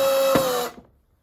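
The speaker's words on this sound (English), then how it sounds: "So the second one, I'm actually powering the screws in with the screwdriver." Electric screwdriver driving a screw into a plastic model kit part, a short close high whine lasting under a second before cutting off with a brief click, no talk.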